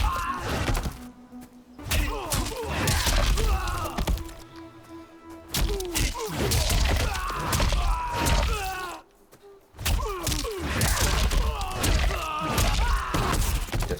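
Johnny Cage lands a six-hit combo in the fighting game Mortal Kombat 1, a rapid string of punchy thuds, cracks and whacks in uneven bursts, some spaced apart, with brief quiet gaps between strings over game background sound.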